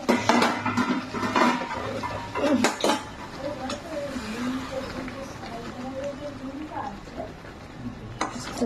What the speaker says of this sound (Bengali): নেড়ে দেবো মাছটা হালকা হাতে